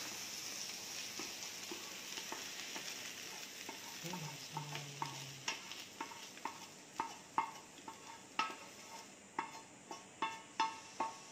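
Sautéed vegetables are scooped from a buttered pan onto a plate: a faint sizzle carries a quickening series of spatula scrapes and taps against metal.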